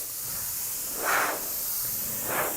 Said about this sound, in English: I'm going to make sure I spray enough on my piece, on the tape itself, let the overspray carry